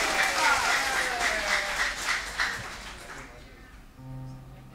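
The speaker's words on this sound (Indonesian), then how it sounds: "Yuk kita berikan tepuk tangan buat juara ini" A church congregation applauds the winner of a poetry competition at a Sunday service: dense, steady clapping that fades out after about three seconds, followed by soft sustained keyboard tones.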